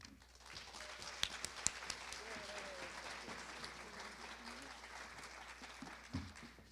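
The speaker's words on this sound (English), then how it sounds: "Another round of applause for my new friend, please." Lecture audience at a library association honor lecture breaks into sustained applause, a steady wash of many hands clapping heard from some distance, with no voices over it.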